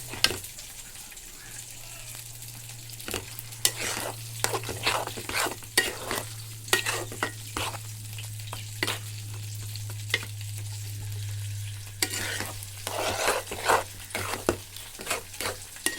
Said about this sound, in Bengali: আমি এটাকে ভাজা ভাজা করে নেব।